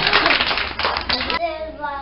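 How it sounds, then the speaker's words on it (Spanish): A small group claps quickly and loudly for a child at a home-made talk, a crisp burst of applause that stops after about a second and a half, giving way to someone speaking. "¡Fuerte aplauso!"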